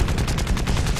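Rapid machine gun fire strafing ground units in the War Thunder video game, a dense, loud burst of evenly spaced shots running through the whole moment with no voices.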